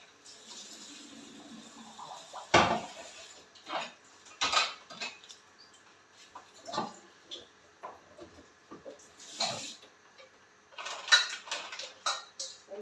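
A small saucepan of cooked food is drained in a home kitchen, bringing a few loud metallic clanks and knocks of pan and utensils in uneven bursts, with soft speech in between.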